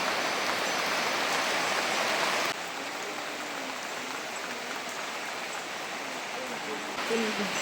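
Steady rain falls outdoors on a garden in an even, close hiss, with faint voices underneath.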